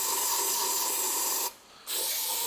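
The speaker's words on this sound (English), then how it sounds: "So we'll get a bit of CRC brake cleaner." CRC brake cleaner blasts in a loud, close continuous hiss down the holes on an MF35 tractor with a 23C engine, cutting off briefly before spraying again.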